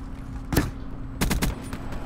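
Man-O-War rifle fire in Call of Duty Black Ops 3, a lone sharp shot followed by a quick cluster of three or four loud bursts, close and punchy, with no talk.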